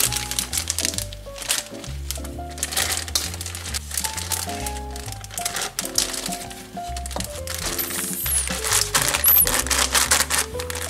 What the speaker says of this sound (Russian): Прям весь пакет высыпаете в сковороду